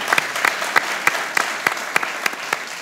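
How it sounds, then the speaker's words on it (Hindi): An audience at a Champions Trophy cricket celebration claps for the security and enforcement agencies, a rhythmic unison of sharp claps at a steady beat over a light background of crowd applause. "एक बार तमाम एजेंसीज के लिए, तमाम एनफोर्समेंट के लिए तालियां"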